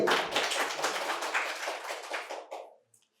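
An audience at a quiz competition bursts into applause, a dense patter of many hands clapping that carries on for a couple of seconds before tapering off into quiet.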